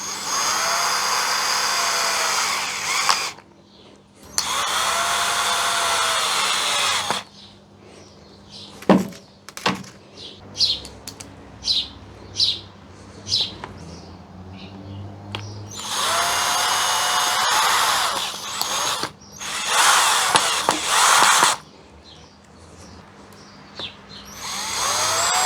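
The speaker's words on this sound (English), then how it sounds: "Side of the mesh I fix with a few tiny screws." A power drill drives tiny screws to fix mesh on the side of a field maple bonsai pot, giving several loud whirring bursts separated by quiet handling clicks and knocks.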